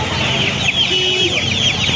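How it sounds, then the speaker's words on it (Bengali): Chickens at a busy open-air poultry market, with Australia hens and chicks for sale, clucking steadily and close amid a dense crowd murmur, with a faint crow-like call in the mix. "দেখুন এখানে মুরগি দেখাচ্ছি, দেখুন মুরগি বাচ্চা আছে।"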